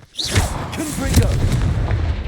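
A Confringo blast spell goes off in Hogwarts Legacy, a loud booming burst that carries on as a sustained rumbling roar for about two seconds, with game effects layered on top.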